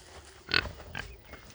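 Mangalitsa pigs grunting out on fresh pasture, a couple of low snorting grunts at close range over steady outdoor background noise.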